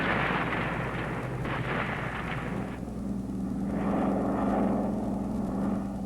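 American bombers attacking North Korea during the Korean War, heard as a loud, continuous roar of aircraft and heavy rumbling blasts that swells and shifts over several seconds, with no one speaking.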